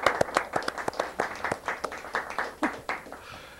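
Studio audience clapping after a live musical performance, a small group producing distinct, uneven claps close by, with a faint voice briefly underneath.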